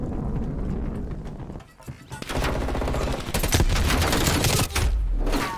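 Dense bursts of automatic gunfire in Call of Duty: Black Ops Cold War, Hardpoint mode, rapid crackling volleys that pause briefly then intensify with heavy close shots, no talking.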